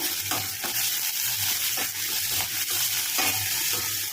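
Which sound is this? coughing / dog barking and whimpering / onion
onion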